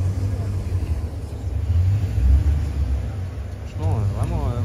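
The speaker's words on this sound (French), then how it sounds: "il y a une Mustang qui se gare comme s'il tapait un burn" Ford Mustang engine rumbling and revving while parking as if doing a burnout, a steady low growl throughout with a swelling rev near the middle, under people talking.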